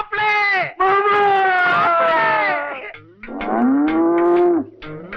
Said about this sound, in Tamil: அது யானை இல்ல, எருமை.